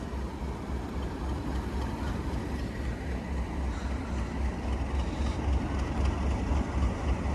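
A Southern class 377 electric train at Watford Junction station gives off a steady low rumble and hum, continuous and moderately loud, with faint platform ambience and no speech.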